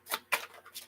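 Cards are being shuffled for a reading: three quick, soft riffling bursts, close and moderately loud, with no talking.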